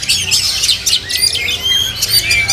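Caged songbirds at a bird market kiosk in Pramuka sing loudly and close, overlapping chirps, whistles and squawking trills forming a dense, busy chorus.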